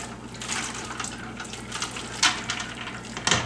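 Blanched potatoes drop into a bowl of ice water, giving a steady splashing, sloshing wash with a couple of sharper splashes near the end, close and with no talking.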